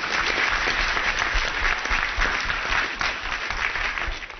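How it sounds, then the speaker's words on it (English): Steady, dense applause from an event audience rises just after a speaker asks for another round for a talented performer, continuing loud and unbroken throughout with no voices on top. "How about another round of applause for generous,"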